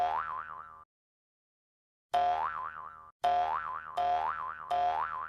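A cartoon boing effect, the wobbling Flubber sound, rings out once, then after a gap of silence repeats four times in quick succession, loud and clean with no voices.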